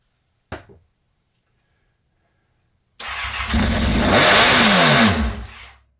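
A Kawasaki ZX6R motorcycle engine, a single short bark, a pause in silence, then a loud close run with rising and falling revs that dies away as the throttle is released.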